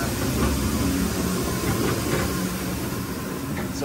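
Dual chip conveyor augers rotating on a 2004 Mazak Nexus 510C vertical machining center, producing a continuous mechanical rumble and clatter with faint knocks, steady and fairly close throughout.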